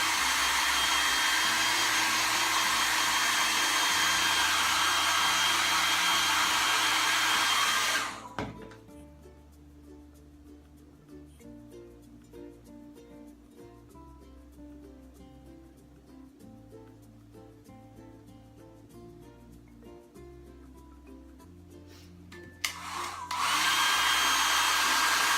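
A heater warms Jamberry nail wraps, running as a steady, loud whooshing blast for about eight seconds, falling quiet, then switching back on near the end.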